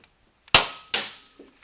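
A Nerf Maverick toy blaster fires twice in quick succession, each shot a sharp close snap that fades quickly, with a faint click between them.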